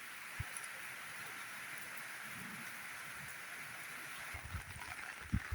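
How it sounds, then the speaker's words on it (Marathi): Light monsoon rain falls over open farmland as a soft, steady patter, quiet and even, with a few faint thumps of nearby drops toward the end. "झिमझिम झिमझिम झिम पाऊस आहे"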